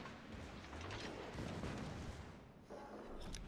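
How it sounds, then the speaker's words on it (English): Warship secondary guns in World of Warships firing at an enemy ship, a sustained wash of booming gunfire with a brief dip before resuming, dense and rumbling. "Secondaries engaging the Petro now."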